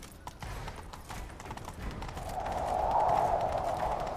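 Rapid hoofbeats of a galloping horse in The Witcher 3: Wild Hunt video game, close and steady, with a rising rushing noise building toward the end.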